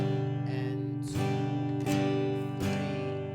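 Guitar strummed in a pattern of one quarter note followed by two eighth notes, sustained ringing chords with sharp strum attacks roughly every three-quarters of a second, close and alone.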